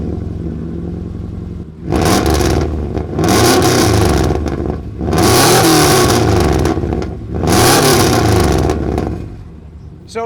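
A lowered, rear-wheel-drive Subaru Outback with a 2015 WRX mid-pipe cut to a single exit into a 3-inch Spintech Super Street Series 9000 muffler revs hard three times up close, with a rough idle between bursts.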